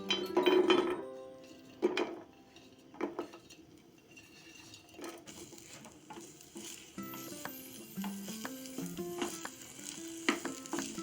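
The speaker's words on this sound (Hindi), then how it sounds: "इन्हें हम डाल देंगे घी में।" Cardamom, ginger, garlic cloves and long-cut green chillies fry in ghee for shahi makhana matar, with a low sizzle under clattering spoon and pan knocks and stirring.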